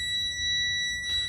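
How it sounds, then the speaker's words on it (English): Truck low air pressure warning buzzer sounding steadily during an air brake test, a continuous high-pitched electronic tone held through the whole moment. "the light and buzzer cannot turn off on the test"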